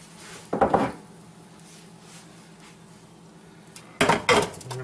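Pans of northern pike set into a roaster oven: two short bursts of metal pans clattering and scraping, one near the start and one near the end, with quiet between them.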